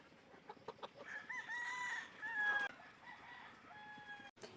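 Stag roosters, young gamecocks tied up outdoors, crow and cluck nearby in a few overlapping calls, with one long drawn-out crow in the middle and quieter clucking around it, no talk.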